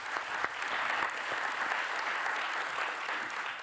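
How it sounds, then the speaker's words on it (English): A conference audience at a climate racism panel gives a steady round of applause, even dense clapping filling the room at moderate distance, with no voices standing out. "Yes, round of applause, please."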